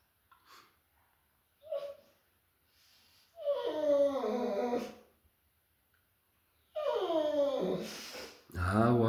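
A Bullmastiff whimpers and whines at close range, with a few short faint whines, then two long wavering drawn-out cries separated by quiet, and heavy breathing or a snort at the end.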